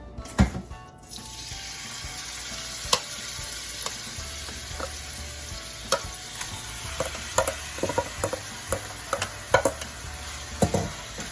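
Pork frying in a wok with vegetable oil sizzles steadily while a utensil clicks and scrapes at irregular intervals against the pan. A sharp burst sounds near the start, and no one speaks.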